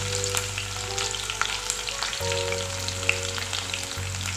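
Crushed garlic frying in hot oil with mustard and cumin seeds for a dried fish curry, a steady close sizzle with faint crackles and stirring, heard without any talk.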